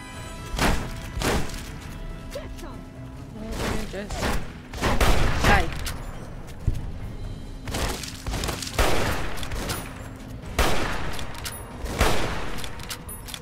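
Hunting shotgun blasts ring out in Fallout New Vegas, a run of loud, booming shots spaced irregularly with brief gaps, mixed with game combat noise and occasional voices.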